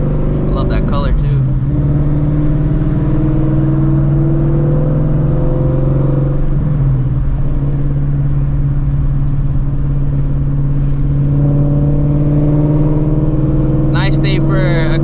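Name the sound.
straight pipe Shelby GT350 engine revving during hard pulls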